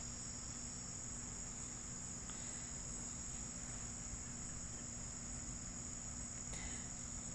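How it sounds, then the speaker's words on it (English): Crickets chirp steadily through an evening outdoors, a continuous high, even trill that stays constant and fairly faint throughout, with no voices present. "this evening, we have sounds of"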